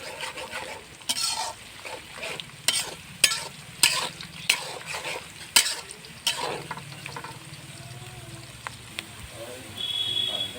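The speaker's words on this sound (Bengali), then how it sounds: "এই যে লাল লাল করে ভেজে নিছি" Chicken pieces and taro frying in a pan until reddish, with loud sharp scrapes and clacks of a utensil stirring at irregular intervals over a continuous low sizzle.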